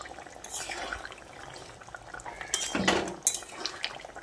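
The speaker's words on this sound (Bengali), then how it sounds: "তারপর আবারও একবার ভালো করে নেড়ে চেড়ে মিশিয়ে নিচ্ছি।" A utensil scrapes and clinks against a pan as fish curry is stirred, with a few wet, sloppy stirring sounds and metallic knocks, fairly quiet and close.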